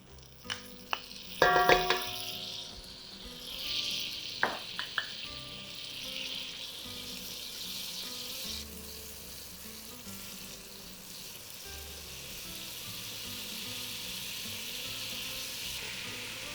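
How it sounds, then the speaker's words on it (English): Melted butter and flour cooking into a roux in a pan, a soft steady sizzle with a few sharp utensil clinks and stirring sounds early on, fairly quiet and with no talking. "So for my bechamel sauce, I always start by preparing a roux. And basically it's by combining melted butter with some flour."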